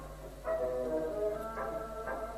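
A Bush TP50 reel-to-reel tape recorder runs after a power supply modification, giving a steady, fairly faint hum with tonal bands and a few soft swells repeating roughly every half second.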